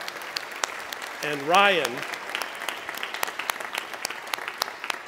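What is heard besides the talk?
church congregation applauding the camera crew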